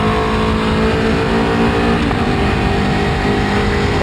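A loud Aprilia Tuono 1100 V4 motorcycle engine pulls hard on a mountain hill climb, its roar steady and close for the whole stretch with no voices.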